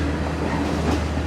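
A modern Sri Lankan passenger train runs on the rails between Colombo and Kandy, giving a steady, continuous rumble of wheels and carriage noise with a slight swell near the end and no voices.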